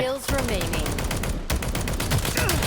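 Rapid automatic gunfire in a mobile tactical shooter game, bursts of sharp shots repeating steadily and close, with a voice speaking over part of it.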